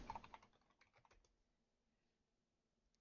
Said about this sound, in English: Type in google.com in your URL